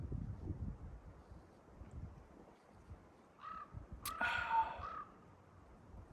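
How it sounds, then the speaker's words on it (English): On the rocky Bull Hill / Chimney Rock hiking trail, a bird gives a few harsh, crow-like caws at moderate distance over gusty wind noise, with no talk. "Got some kind of bird out there just yelling at me."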